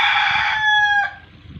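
A rooster crows once, loud and close, a strident drawn-out call that breaks off abruptly near the end, followed by quiet background.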